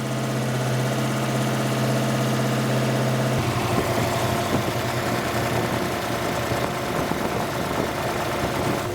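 A mystery auction racecar with a newly fitted engine settles to an idle of about 850 rpm, with some rocker arm noise. A loud, steady low rumble shifts to a slightly rougher, more uneven tone partway through.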